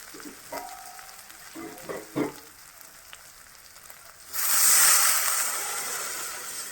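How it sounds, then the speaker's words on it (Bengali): Water poured into sizzling fried masala for an egg gravy: a few quiet clinks and scrapes, then a sudden loud hiss and bubbling sizzle that stays strong and slowly eases. "মশলাটা কষানো হয়ে গেছে তেল ছেড়ে দিয়েছে মশলা থেকে এবারটা আমি জল ঢেলে দেবো"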